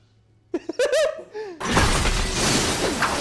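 Glass shatters in a Daredevil film scene, a loud, sustained crash of breaking glass that follows brief shouting voices and keeps spreading to the end.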